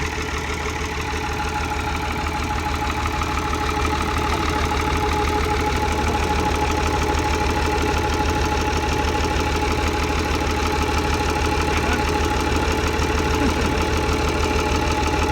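A Hitachi 200-2 excavator's diesel engine idles steadily with a constant low, knocking rumble and no voices.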